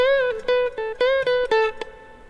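An electric guitar plays a quick lick of about a dozen notes, with pitches bending and sliding between plucks, ending on a short muted note.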